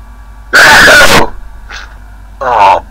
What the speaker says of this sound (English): Oh bloody hell, I sneezed inside my helmet.